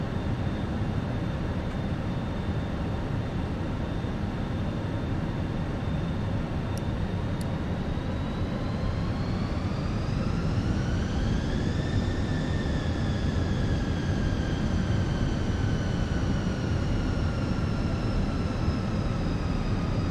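An airliner approaching to land in Microsoft Flight Simulator 2020 drones with a steady, loud engine hum, and its whining tone slowly climbs and then eases back across the approach.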